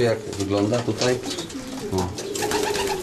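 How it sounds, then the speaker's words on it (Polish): Racing pigeons coo and murmur in a loft for young birds, a steady soft layer of calls under people talking nearby. "Są tu te gołąbki."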